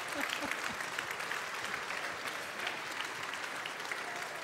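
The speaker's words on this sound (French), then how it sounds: "On l'applaudit." Audience applause at a French company anniversary convention award ceremony as an award is presented, dense continuous clapping from a large crowd at an even level throughout.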